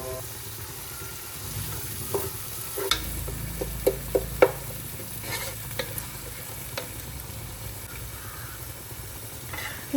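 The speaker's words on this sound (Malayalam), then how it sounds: "ഇത് നന്നായിട്ട് ഉള്ളിയൊക്കെ ഒന്ന് വഴന്ന് വരുന്ന വരെ ഒന്ന് ഇളക്കി കൊടുക്കുക" Onions sautéing in a pan for a simple mandi, with a steady low sizzle and repeated sharp scrapes and taps of a spoon stirring, close and without talk.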